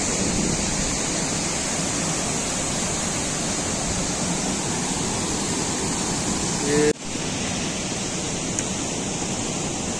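A stream swollen by floodwater at a ghat roars in a steady, dense rush close by, unbroken except for a brief dip near the end.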